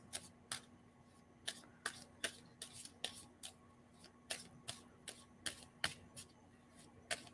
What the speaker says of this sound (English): And so I'm going to stop shuffling.